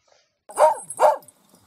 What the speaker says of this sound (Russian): Айда там лает